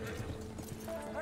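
Horse hooves clip-clop steadily at a walking pace in Red Dead Redemption 2, with a faint whinny-like tone near the end and low background ambience.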